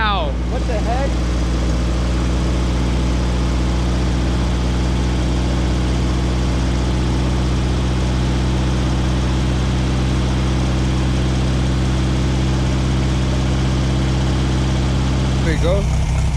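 A car engine idles steadily and close by after an exhaust leak repair, a low continuous rumble that sounds quieter than before, with someone talking briefly over it near the start and end.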